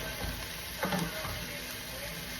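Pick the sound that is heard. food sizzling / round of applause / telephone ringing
food sizzling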